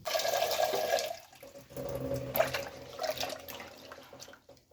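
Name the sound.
rinsing moong dal in water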